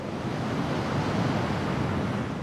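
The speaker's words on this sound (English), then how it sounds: "you can listen to the sea, you can talk to the sea" Sea waves near the Great Nicobar coast, a steady broad wash of surf with no breaks, moderately faint and even throughout, with no voices.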